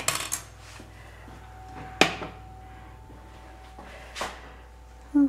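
Plates and dishes clink and clatter in a kitchen during a search for a plate, with a few sharp ceramic knocks separated by pauses and a final louder clunk near the end, close by and without talk.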